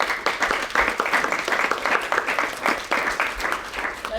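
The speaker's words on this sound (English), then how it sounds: "Let's give him an extra round of applause" Enthusiastic applause from guests at a charity dinner honoring a board member, with brisk, dense clapping and a few louder individual claps throughout the four seconds.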